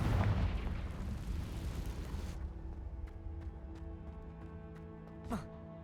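A Confringo fire spell in Hogwarts Legacy bursts with a deep, rumbling blast that fades into a long ringing tail, followed by a faint whoosh near the end.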